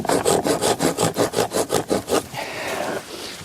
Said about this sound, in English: Try the machete saw. There's a saw on the back of this.